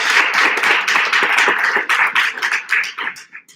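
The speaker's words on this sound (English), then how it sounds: "Give her a round of applause." Audience applause for a speaker at a design talk on negotiation strategies, a close, lively burst of many hands clapping that thins out and fades toward the end.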